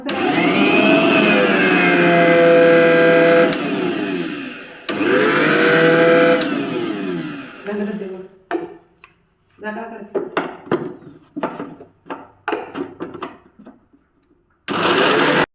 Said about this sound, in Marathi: बाबा माझा मिक्सर चालू झाला